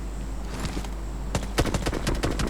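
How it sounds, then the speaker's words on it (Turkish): Gunfire in the PUBG video game on the Miramar map: a dense burst of rapid shots following a steady background of game ambience, loud and close. "karşı taraftan gelen atışlar var şu anda muhafıza doğru sol taraftan"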